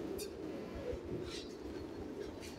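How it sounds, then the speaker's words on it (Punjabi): A Jura pigeon, also called Imamdeen, coos softly in a low, throaty murmur, with faint chirps and a light background hiss around it. "ਲੋ ਜੀ ਦੋਸਤੋ ਇਹ ਜੇ ਜੁਰਾ ਕਬੂਤਰ"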